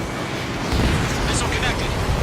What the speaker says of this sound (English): Missile connected.